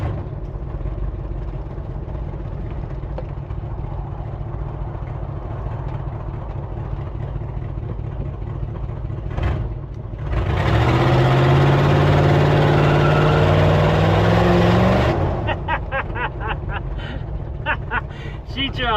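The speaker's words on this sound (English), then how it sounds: "She tried to do a burnout." A big block Chevrolet Suburban on big tires idles with a low rumble amid voices, then roars into a loud, climbing rev for several seconds during a burnout attempt before dropping back to a clattering idle.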